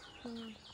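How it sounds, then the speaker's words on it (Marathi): A single tailorbird call with a clear, steady whistled note and softer overtones, sounding near against a quiet background. "Tailor bird ओरडतोय."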